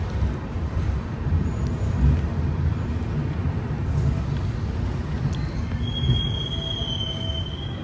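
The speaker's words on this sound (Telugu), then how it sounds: "3:15కి రావాల్సిన ట్రైను 3:10కి వచ్చేసింది." A Rayalaseema superfast passenger train pulls into Kadapa station with a steady low rumble of rolling wheels, a sharp high wheel squeal rising near the end as it brakes to a stop.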